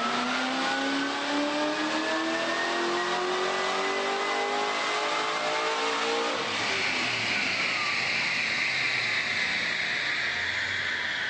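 A 850 hp supercharged Corvette C6 with an MTI Racing TVS package screaming on a dyno, the engine revving continuously loud and rising in pitch, then shifting and climbing again at full throttle, no talking.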